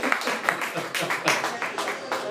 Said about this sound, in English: People clapping about you shaking your hips.